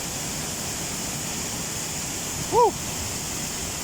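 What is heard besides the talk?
waterfall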